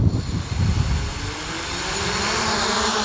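A Beyond Sky B6SE 4K Pro drone lifting off, its propellers building into a steady high buzzing whine with a rising tone, close and loud with no talking.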